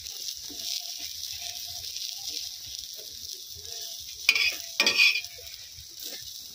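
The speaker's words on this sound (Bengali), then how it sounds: "একটু শক্ত করে ডিমটা ভাজছি" An egg frying firm in a home kitchen pan, a faint steady sizzle with a few sharp scraping bursts near the end and no speech.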